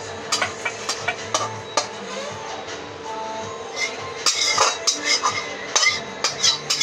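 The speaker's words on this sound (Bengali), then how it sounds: "শুক্তোটা ঢেলে নিচ্ছি আমি।" Cooked shukto, a Bengali vegetable curry, is ladled out of a pan, giving a run of close metal clinks and scrapes of spoon against cookware, steady at first and then busier toward the end.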